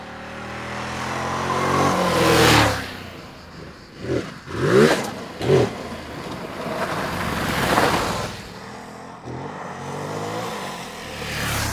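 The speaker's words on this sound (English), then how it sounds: "Enter, please, Ducati's Desert X" A Ducati Desert X adventure motorcycle engine revs up, surging loudly, then barks out several quick throttle blips before settling into a steady rumble, heard close with no talking.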